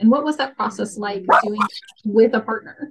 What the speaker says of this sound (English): So sorry about the dogs barking.